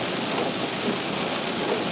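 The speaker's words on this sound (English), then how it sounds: "it's rain and the windshield wipers" Rain on a car driving down the road with windshield wipers running, a dense steady hiss of water and faint periodic swells from the wiper sweeps, with no talking.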